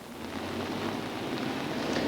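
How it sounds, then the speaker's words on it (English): Heavy rain and gusting wind at night in York, a dense, steady hiss of downpour with a low rumble of wind, moderately loud and continuous with no voices. "Heavy rain and the wind is really picking up here in York tonight."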